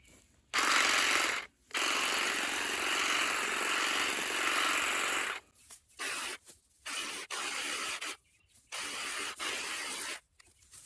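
A Saker cordless hedge trimmer cuts through quarter-inch plant stems in a series of close, buzzing electric bursts, first long runs and then several short start-stop pulses separated by brief silences.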